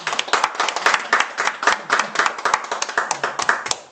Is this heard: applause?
yes